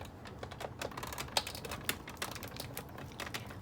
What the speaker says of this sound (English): Run it through the die cut machine.